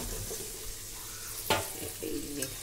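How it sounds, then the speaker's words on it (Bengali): Fried eggs in spice paste sizzle in a pan, a soft, steady frying hiss broken by a sharp clack of the spoon and scraping stirs. "ভাজা ডিমগুলো দিয়ে এবার আমি একটু কষে নেবো ভালো করে"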